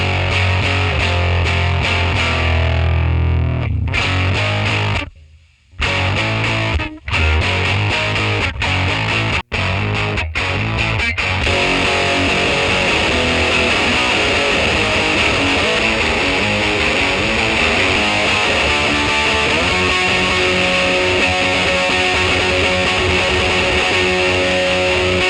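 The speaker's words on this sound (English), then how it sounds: "It was that really specific, like, broken amp sound. It's exactly what it sounds like, is a broken amp." An electric guitar plays through a broken Quad tube amp running on one tube, giving a loud, gritty, heavily distorted tone. A few abrupt cutouts come early, then a long sustained, saturated wall of noisy sound continues with no talk.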